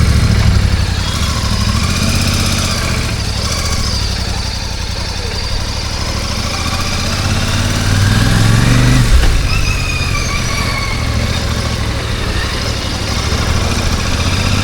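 Royal Enfield Classic 650 twin-cylinder motorcycle engine running steadily while riding, a loud continuous low rumble with wind noise that swells briefly around the middle, with no talking.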